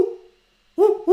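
A human voice imitates a wood pigeon's call with short, breathy cooing hoots, one fading note followed after a pause by two quick close-up coos.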